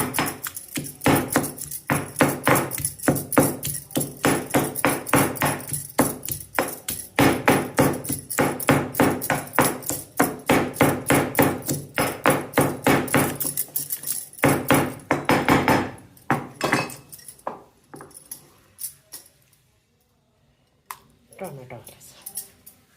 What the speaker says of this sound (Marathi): असं टोमॅटो बारीक करायचं.